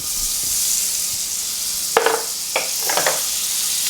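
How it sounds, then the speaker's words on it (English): Butter sizzling in hot bacon fat in a pan, a steady bright hiss with a few sharp spatters and crackles near the end, close and fairly loud, no talk. "Now I'm going to add the butter to the bacon fat."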